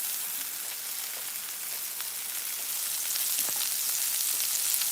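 Shrimp fried rice sizzles steadily in a hot pan after sesame oil goes in, a dense, continuous frying hiss that grows slightly louder and busier toward the end, with no voices.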